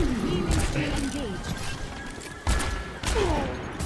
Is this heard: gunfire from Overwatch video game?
yes